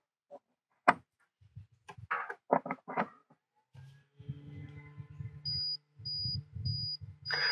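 Short, high electronic beeps from an Allpowers R2500 solar generator repeat at a steady interval over a low droning hum, following a few moments of brief speech and handling noises.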